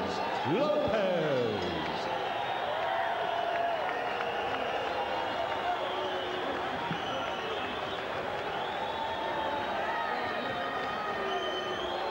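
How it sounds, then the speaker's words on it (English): Boxing crowd cheering and roaring after a majority decision is announced, a continuous loud wash of arena noise with a commentator's voice running over it and whistles early on. "Crowd responding here to Lopez's success"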